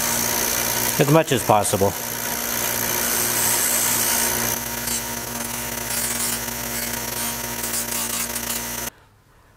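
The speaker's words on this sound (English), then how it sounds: "got to be really careful with these deburring dies because they generate a lot of heat" A power tool with a deburring die whirs steadily against pressed copper pieces, close and continuous, with a brief voice near the start before it cuts off.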